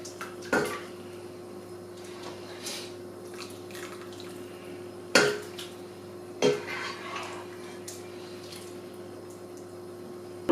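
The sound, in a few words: draining vegetable stock from a pot for pumpkin soup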